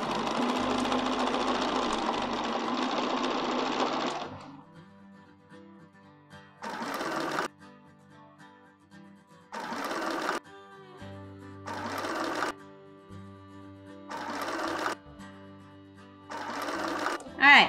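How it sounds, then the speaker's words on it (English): A sewing machine stitches a quilt border design in several short, rhythmic bursts separated by pauses, after someone speaks at the start. "flip my template, line it up on those extra lines that we've got in there, and stitch"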